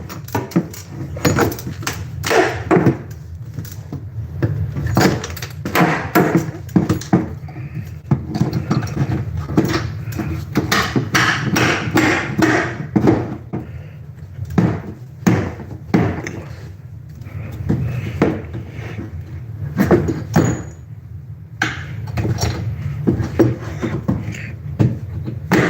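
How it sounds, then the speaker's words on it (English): Staples and nails being pried out of a wood floor, a long irregular run of sharp scraping, clicking and snapping knocks, close and loud, with brief pauses between pulls. "I'm still getting nails out."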